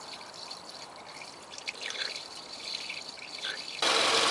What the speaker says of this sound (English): slowly add engine coolant to the radiator until the radiator is full